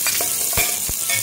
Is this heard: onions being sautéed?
yes